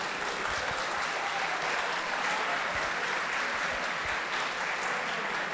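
An audience at a Brazilian institutional conference on the rule of law applauds: a dense, even wash of many hands clapping, sustained and uniform throughout, with no voices standing out.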